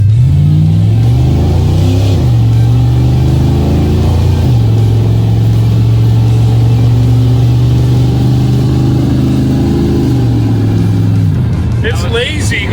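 Engine of a 1972 GMC C10 pickup at part throttle, its 700R4 automatic shifting lazily into overdrive. A loud, steady engine drone holds throughout, its pitch falling at each shift as the truck pulls along, with people talking inside the cab.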